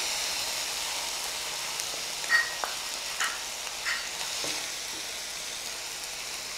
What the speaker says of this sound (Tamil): அண்டு சோயா சாஸ் போட்டு நல்லா ஃப்ரை பண்ணுங்கள்.